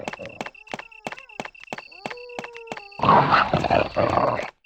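Dogs in the original Resident Evil video game snarl and growl in a loud, rough burst that rises over a rhythmic pattern of game tones and sound effects.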